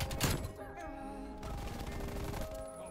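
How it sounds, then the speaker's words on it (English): Rapid gunfire from an enemy sniper in Call of Duty Cold War, a loud burst early on followed by continued crackling shots and game noise throughout. "Enemy sniper shooting."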